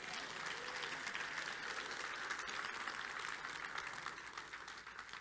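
Sustained applause from a church congregation fills the room, steady and fairly distant with a dense wash of clapping that fades slightly toward the end.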